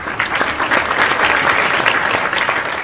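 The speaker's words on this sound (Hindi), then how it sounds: "आप लोग तालियों से स्वागत करिए" Steady, dense applause from a poetry-gathering audience welcoming a poet from Madhya Pradesh, loud and continuous throughout with no speech on top.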